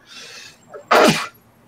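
Someone sneezes from dust kicked up while reprogramming a Mac Plus ROM. A short breathy intake comes first, then one sharp, loud burst of the sneeze lasting about a third of a second in a quiet room.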